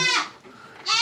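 Jawa Randu goats bleat loudly in a farm pen where young weaned males are raised, with two close, wavering cries framing a brief lull.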